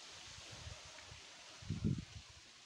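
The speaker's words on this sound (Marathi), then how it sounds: "आणि इथे वारा पण सुटलेला" Wind blows at a tile-roofed village temple in Ratnagiri, Konkan, with soft low gusts buffeting the microphone and one stronger gust near the end, over a quiet background with no talking.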